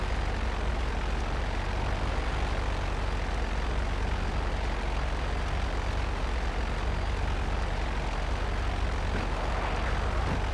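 A plane flying in the video game GTA Online, a constant loud propeller and engine drone that stays steady and unbroken throughout.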